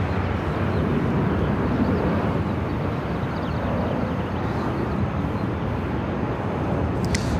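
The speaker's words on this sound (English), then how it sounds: "Next arrival at Delta Airlines flight 968, coming in from San Antonio, Texas." An airliner arriving at LAX airport, a steady broad jet roar heard from a distance, sustained and even without clear peaks, carrying on for the full stretch.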